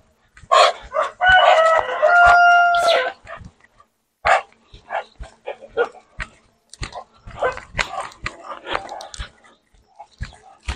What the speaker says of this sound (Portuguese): ali vem um monte de cachorro agora